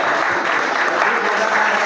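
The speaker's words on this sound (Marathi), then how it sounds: "सगळ्यांच्या टाळ्या जोरदार होते" An audience at a school science exhibition and competition claps in dense, steady applause throughout, loud and close, with no break.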